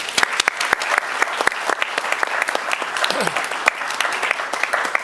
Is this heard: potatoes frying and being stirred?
no